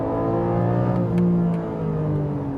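Porsche 718 GTS 4.0 with its six-cylinder engine held high near the rev limiter, a loud, steady mechanical whine with a small pitch rise and dip, heard from inside the car.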